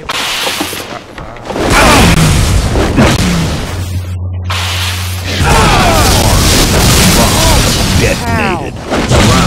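Heavy bomb detonation in Halo Reach Griffball, several deep booming blasts with rumbling tails stacked over a loud game mix, while players talk over it.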